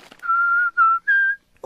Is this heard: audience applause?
no